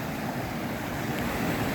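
Fast-flowing water at Tokivskyi waterfall in Ukraine makes a loud, steady, broadband rush that fills the whole stretch without pause, close by and with no voices.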